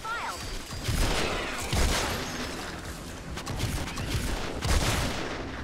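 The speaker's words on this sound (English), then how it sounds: "Let's use that shotgun." Shotgun blasts and other gunfire in a Fortnite match, several heavy booms spread across a busy, continuous battle soundscape.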